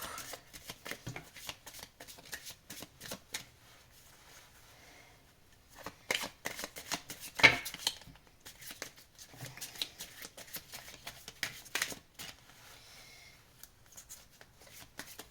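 Oracle cards shuffled for a reading, a steady run of close, crisp riffles and slaps with one sharper snap midway, heard on their own.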